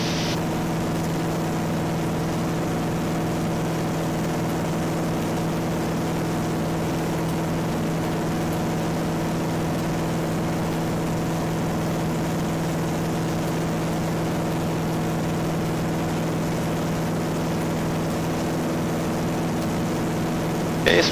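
A propeller airplane engine drones steadily in flight, a constant low hum with strong tonal whine that never changes for the whole stretch.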